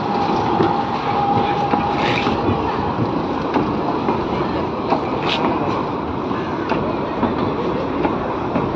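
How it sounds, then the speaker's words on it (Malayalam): A passing train gives a steady, loud rumble of wheels and carriages that lasts the whole stretch. Occasional clicks and squeaks from the rails come from nearby, with no break in the noise. "എന്നിട്ട് നമ്മളെല്ലാവരും കൂടെ ഇതാ ട്രെയിൻ പോകുന്നത് നോക്കി ഇങ്ങനെ നിൽക്കുകയാണ്."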